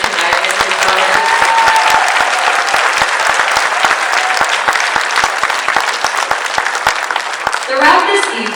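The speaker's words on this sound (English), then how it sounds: "please give another round of applause for our keynote speaker tonight, Mr. Jonathan." A crowd applauds steadily for a keynote speaker at a Filipino cultural celebration evening, dense and loud clapping filling the room for several seconds before tapering off.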